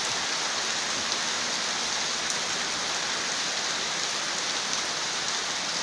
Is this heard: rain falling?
yes